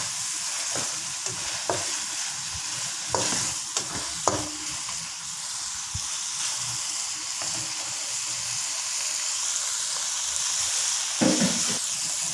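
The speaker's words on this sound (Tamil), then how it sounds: "அரைச்ச மிளகா போடுறேன்." Ground chili fries in a pan for fried rice, a steady soft sizzle broken by several sharp scraping stirs of the spatula, with no talking.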